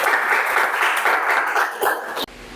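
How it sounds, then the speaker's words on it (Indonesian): Applause after a classroom group presentation, a dense burst of many hands clapping loudly for about two seconds before cutting off abruptly. "Tepuk tangan dulu."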